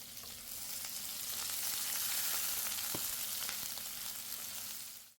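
Onions frying in oil in a wok with whole spices, a steady loud sizzle lasting throughout, with faint stirring and no voices.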